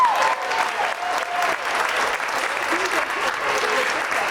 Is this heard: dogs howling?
no